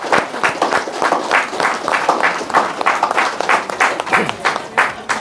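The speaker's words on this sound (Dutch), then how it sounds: "Applaus daarvoor." An audience applauding newly certified graduates at a ceremony, clapping throughout with distinct individual hand claps in a rhythmic, uneven pattern and no talk.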